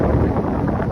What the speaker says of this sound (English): And it's very windy here.